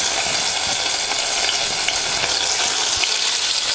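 Paneer cubes sauté in about two tablespoons of hot oil in a pan, giving a steady, dense sizzle and crackle that runs unbroken throughout, close and loud.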